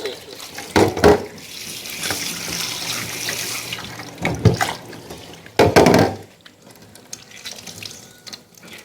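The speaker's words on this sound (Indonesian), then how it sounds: "Basuh sampai bersih." Fermented mandai, a Kalimantan food soaked in salt brine, is washed under a running tap, with steady water flow into a sink and louder splashing bursts as the pieces are rinsed and handled.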